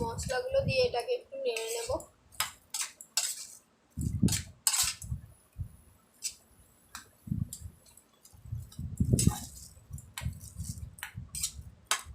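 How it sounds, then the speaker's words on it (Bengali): Spices being stirred in a metal cooking pot, with scattered clinks and scraping knocks of a utensil against the pan, close and intermittent, while a voice talks briefly at the start. "আমরা নেড়ে নিচ্ছি"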